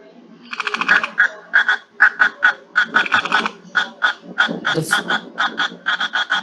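Cricket frogs from the Western Ghats calling in a rapid, steady series of sharp, clicking chirps that run on without a break. The calls are close and clear, with a faint murmur of background noise beneath them.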